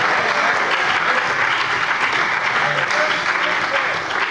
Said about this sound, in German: Applaus des ganzen Hauses.